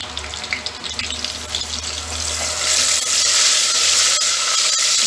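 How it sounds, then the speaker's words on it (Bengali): Water poured into a pot while mutton cooks with spices in a pressure cooker, a steady rushing splash that swells and grows fuller after a couple of seconds over a faint sizzle, with no voices. "জল দিতে পারি"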